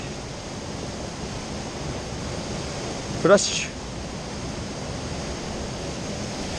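A waterfall rushes in a continuous broad roar near a suspension bridge, with a brief spoken word cutting in once partway through.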